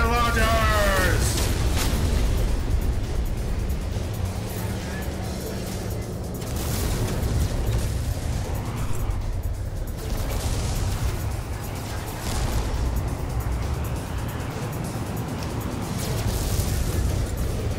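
Rocket launcher explosions in No Man's Sky come as a sustained barrage of rumbling blasts and bursts that run continuously at high loudness, with a voice talking over them.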